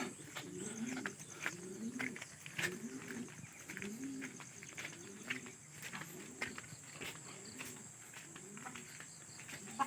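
Racing pigeons coo in a steady, repeating rhythm of soft, throaty calls, with faint clicks and chirps scattered over a quiet background.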